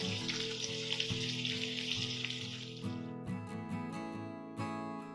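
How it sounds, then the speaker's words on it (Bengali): Shol fish pieces frying in hot oil, giving a steady close sizzle throughout, with a few spattering pops toward the end. "মাছের এক পাশটা হালকা ভাজা হয়ে গেলে উল্টে দিয়েছি।"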